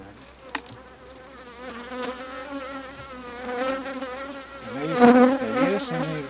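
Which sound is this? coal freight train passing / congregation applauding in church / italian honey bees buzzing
italian honey bees buzzing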